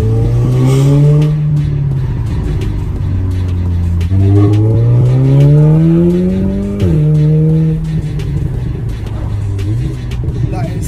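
A car engine revs up and down in rising and falling sweeps, loud and close, with a newly fitted exhaust on a stage 1 tune crackling and popping between pulls.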